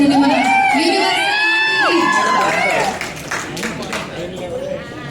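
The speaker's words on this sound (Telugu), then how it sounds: "గట్టిగా చప్పట్లు కొట్టండి" A crowd at a film pre-release event cheers and whoops loudly, with children shouting and scattered clapping, the excited voices fading slightly after a few seconds.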